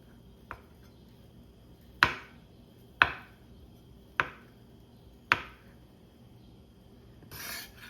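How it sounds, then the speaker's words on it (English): A knife chops boiled eggs on a cutting board for a macaroni tuna salad: a faint tap, then four crisp, evenly spaced knocks, close and alone in a quiet kitchen, ending with a brief rustle. "So I'm just gonna chop up them egg and drop them in there."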